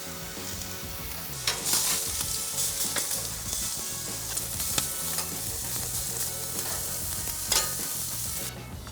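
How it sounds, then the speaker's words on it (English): Bacon and burger buns cook on a hot grill grate, an even, close sizzle running throughout with occasional sharper spits and crackles. "Bacon goes on as well."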